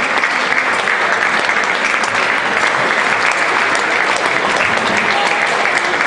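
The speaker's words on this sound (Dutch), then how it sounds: "mag ik nogmaals een applaus voor de Runner-up 2015, Lectatech.nl" Sustained loud applause from an audience at a Final Four finale event honoring the 2015 runner-up, dense continuous clapping from many hands without pause.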